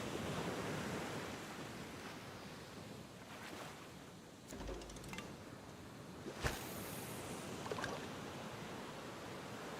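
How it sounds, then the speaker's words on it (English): Ocean waves in a relaxing fishing video game: a steady, soft wash of surf noise continues throughout, with a few brief clicks and a sharper splash-like hit midway, no talking. "At least this is nice and relaxing, and I can listen to the waves."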